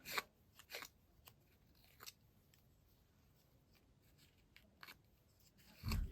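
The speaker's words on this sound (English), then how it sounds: "Using my bone folder first of all, just kind of curl that." Paper is curled with a bone folder while making a vintage tag, a quiet close series of crisp rustles and scraping crunches in short bursts separated by near silence, with a louder burst at the end.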